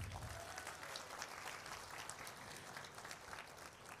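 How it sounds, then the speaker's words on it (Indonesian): Audience applause at a company leaders' event in Indonesia, steady dense clapping heard faint and distant throughout, with no speech over it. "Tepuk tangan buat Atomi."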